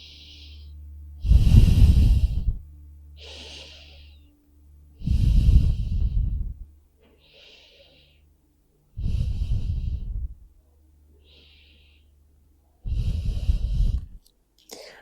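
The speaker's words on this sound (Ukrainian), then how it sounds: "Декілька дихань." Slow, deep breathing during a pregnancy yoga session, with four long, close exhalations at a steady pace separated by quieter inhalations and a faint background hum.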